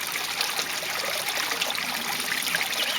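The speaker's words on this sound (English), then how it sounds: "This one on the left that I was just planting in is starting its auto siphon now." Water draining from an aquaponics grow bed through an auto siphon, heard as a steady, close trickling and gurgling stream that runs unbroken at an even level.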